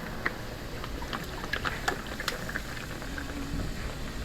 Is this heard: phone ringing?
no